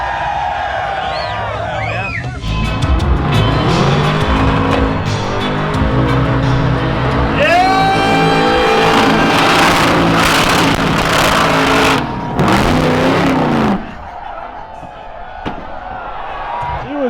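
A supercharged 10.3L big block car revs hard and spins loudly before it backs into a wall, and a cheering crowd and voices of people talking nearby carry over the engine noise.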